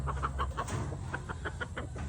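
Chickens cluck in a steady series of short, repeated notes, moderately close, over a constant low background hum.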